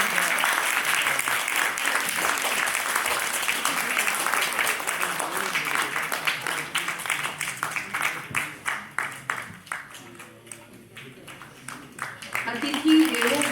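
Applause from a seated audience at the Antas Utsav 2026 cultural function rolls on steadily, then thins into scattered individual claps before swelling briefly again at the end.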